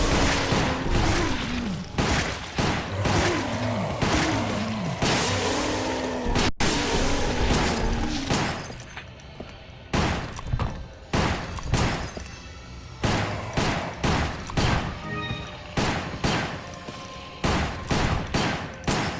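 Rapid gunfire in a Resident Evil video game, dense fusillade of loud repeated shots and booms throughout, continuing as spaced bursts of bangs in the later part.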